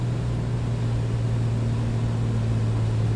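Piper PA-24 Comanche piston engine droning steadily in cruise flight with RPM reduced, a constant low hum heard from inside the cabin, with no talking.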